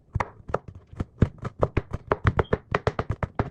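Knife chopping vegetables for tuna dip on a cutting board, a steady run of close, crisp knocks, about five per second and slightly uneven, with no talking.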